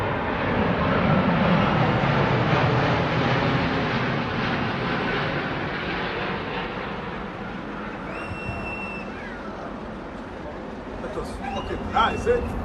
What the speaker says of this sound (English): These South African Airways planes flew really close to each other in formation to inaugurate the president.